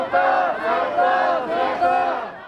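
A large crowd at a climate crisis protest chants a Korean slogan in unison, shouting in rhythmic bursts that repeat several times in close succession.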